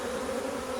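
Honey bees hum inside a crowded hive, a steady close-up drone of massed wings that holds even and unbroken throughout.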